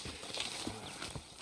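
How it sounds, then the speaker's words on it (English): In a Red Dead Redemption 2 game scene, horses strain as they pull, with faint, muffled hoof clops and a few soft thuds heard at a distance over a low background hush. "Horses will pull it clean down."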